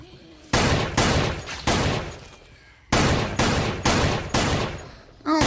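Gunfire in the video game SixthSense goes off in six loud, evenly paced blasts, each trailing into a short echo, as zombies are shot at close range.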